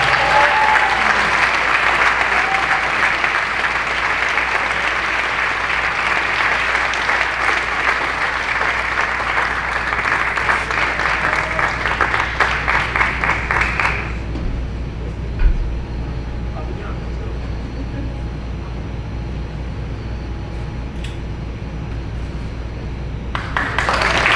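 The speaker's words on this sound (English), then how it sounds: "Let's give him a round of applause." Loud, sustained audience applause at a senior awards presentation fills the first half, then fades to a quieter room with scattered claps and murmuring.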